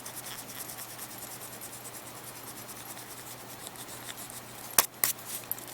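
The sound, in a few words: erasing ink from paper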